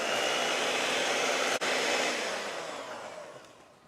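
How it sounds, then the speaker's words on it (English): An electric mixer whirs steadily through egg, sugar and butter or margarine for date nut pudding, a loud continuous motor hum with one brief dropout, then gradually fading toward the end. "Now we'll mix these 3 ingredients together."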